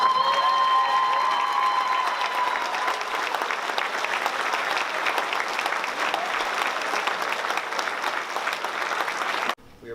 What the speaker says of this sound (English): I would ask the graduates to lead this assembly in applauding the dedicated teachers